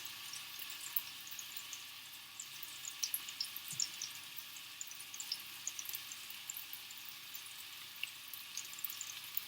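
Turkey and chorizo meatballs frying in hot oil in a pan give off a steady, fairly quiet sizzle with fine crackles and small pops throughout, and no voices.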